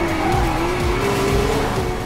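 Lamborghini Veneno at full throttle in NFS Rivals, a loud continuous engine note holding steady and rising slightly, with faint tire squeal in the mix and no voices.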